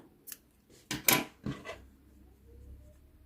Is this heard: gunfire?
no